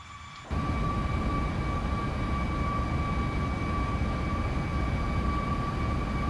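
A simulated Boeing 737 Max 8 airliner in flight in the Prepar3D simulator, a steady broadband engine roar with two sustained whining tones, starting abruptly after a brief quieter moment, with no talking.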